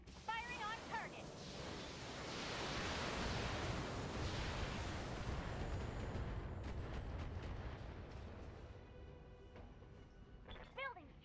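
Weapon fire and explosions from the BattleTech mech game, a loud sustained roar of blasts and rumbling booms that swells through the middle and fades, with faint electronic tones at the start and end.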